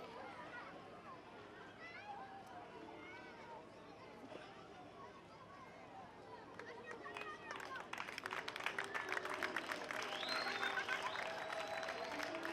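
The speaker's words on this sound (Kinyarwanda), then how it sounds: "amashyi menshi cyane" Murmuring speech and crowd noise give way to a burst of steady clapping from many people, growing louder toward the end.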